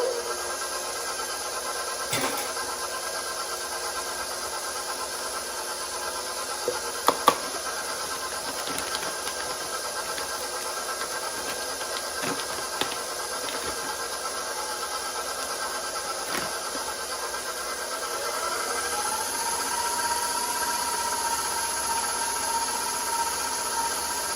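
Protein banana muffin batter with vanilla is being mixed with a steady, whirring motorized drone. The hum holds an even level throughout, broken by a few faint clicks and knocks, with no voices.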